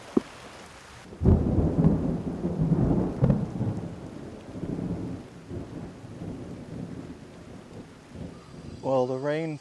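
Heavy rain pours steadily with deep rumbling thunder rolling through, loud and close, heard while sheltering at a car in Myakka River State Park; a voice briefly sounds near the end.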